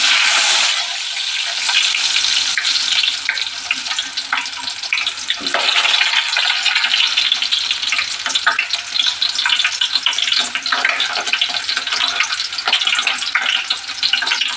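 Onions fry in hot oil in a pan, giving a loud, steady crackling sizzle that continues close by for the whole stretch, with occasional stirring noises and no voices.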